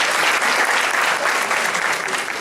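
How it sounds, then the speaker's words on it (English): An audience at an 8th grade school graduation ceremony claps loudly and continuously, a dense, even sound of many hands. "he definitely deserves the applause"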